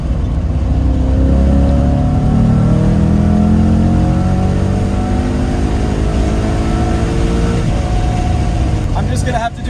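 A car engine drones steadily while driving in one gear due to broken shift linkage, its pitch slowly climbing and holding with no shifts, loud and close.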